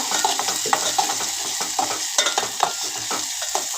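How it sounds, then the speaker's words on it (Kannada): Onions frying in a pan for a brinjal (badanekai) palya, with a steady close sizzle and repeated scraping stirs of a spoon, no talking. "ಈರುಳ್ಳಿ ಸ್ವಲ್ಪ ಚಂದ ಫ್ರೈ ಮಾಡ್ಕೋಬೇಕು."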